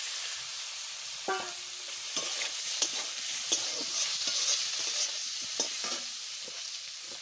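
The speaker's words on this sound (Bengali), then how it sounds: "ওই তেলে আমি ওল দিয়ে দিচ্ছি।" Chunks of elephant foot yam dropped into hot oil left over from frying fish, sizzling close and steady while a utensil stirs them with a few scraping knocks against the pan.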